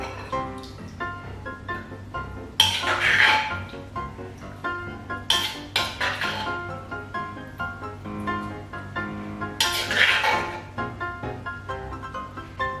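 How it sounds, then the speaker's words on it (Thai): Dishes clink and rattle as papaya salad (som tam) is scooped onto a plate in a home kitchen, with sharp bursts of clatter at intervals over a steady background of light kitchen noise. "เดี๋ยวเราจะมาตักใส่จานนะคะ"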